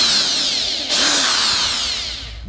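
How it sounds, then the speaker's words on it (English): A power drill bores screw holes through a template, one loud whirring burst that spins up and then slowly winds down over a couple of seconds, heard alone. "I'm gonna drill the holes for my screws."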